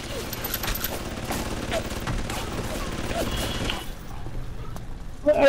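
Rapid gunfire rattles from a weapon in BioShock, a dense, loud stream of bursts for about four seconds that then cuts off into quieter mechanical sound.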